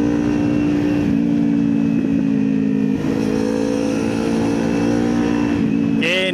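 A motorcycle engine drones steadily and loudly at constant revs in fourth gear on a night ride near Batu Ferringhi, a continuous close roar with wind noise and a brief rising whine at the end.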